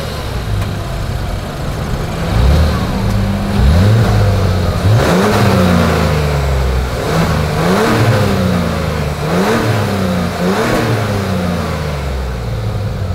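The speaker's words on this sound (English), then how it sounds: "As always, here is that exhaust clip." A 2025 Mazda CX-70 SUV exhaust revs repeatedly, the engine rising and falling in about five strong throttle blips over a steady idle, loud and close with no talking.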